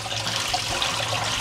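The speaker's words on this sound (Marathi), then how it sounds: "पोहे सगळीकडे एकसारखे छान धुवून घ्यायचे" Poha (flattened rice) being rinsed in water, a soft continuous sloshing and trickling of liquid, close and steady, with no talk.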